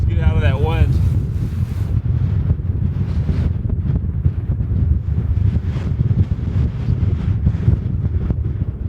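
Strong wind buffets the camp during a snowstorm in the mountains. A steady, loud roar of gusts batters the microphone throughout, with a brief voice near the start.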